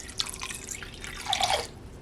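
Water poured from a tap into a large measuring cup being used as a mixing bowl, with a short burst of dripping and splashing near the start and a louder, steadier pour toward the end, close by.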